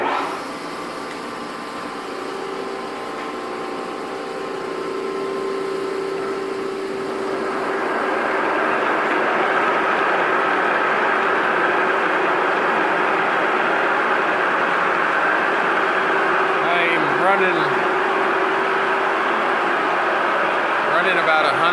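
A line boring machine runs at about 120 RPM, cutting bores in an excavator part. A steady mechanical hum gives way to a louder, continuous grinding whir that holds to the end, close by.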